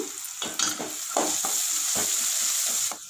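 Crushed ginger and garlic frying with onions sizzle steadily while a spoon stirs through them in quick scraping strokes, close and fairly loud, with no talking.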